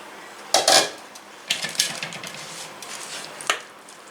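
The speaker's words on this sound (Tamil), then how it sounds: "ரெடியாக இருக்கிற இந்த புளி காய்ச்சலை கொஞ்சம் கொஞ்சமாக சேர்த்து சாதத்தோட நல்லா வந்து மிக்ஸ் பண்ணி" Tamarind paste being mixed into cooked rice in a pot for homestyle puliyodhari, with a few clinking scrapes of a spoon against the metal vessel in short bursts, near and alone.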